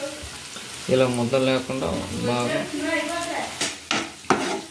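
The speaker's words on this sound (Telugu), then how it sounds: "ఇప్పుడు మనం ముందుగా దంచి పెట్టుకున్నాం ఎల్లుల్లి కారం వేసి బాగా మిక్స్ అయినట్టు కలుపుకోవాలి" Garlic chili powder being stirred into eggs frying for a Srikakulam-style egg curry, a soft sizzle running under steady talking, with a few sharp spoon-on-pan clinks near the end.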